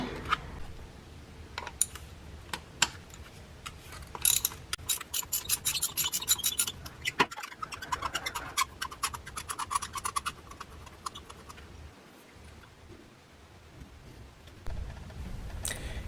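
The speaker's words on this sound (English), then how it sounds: "Okay, we'll switch to a ratchet." A hand ratchet clicks in quick, uneven bursts while spark plugs are loosened on a Honda 2.4-litre engine, with metallic scraping and handling noises between the bursts and a brief quiet gap near the end.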